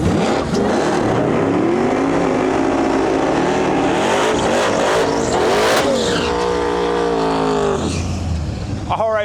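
A drag race car accelerates hard down the strip at a rain-delayed event, a loud roaring engine rising through the gears with crowd and PA voices mixed underneath.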